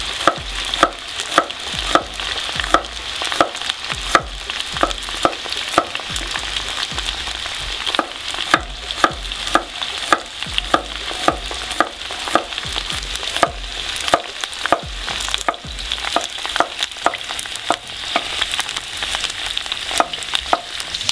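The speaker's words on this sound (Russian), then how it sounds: "И пока жарится наш картофель" Steady crackling sizzle of salted potatoes frying in a pan, with dense popping bursts throughout, fairly loud and close, no talking.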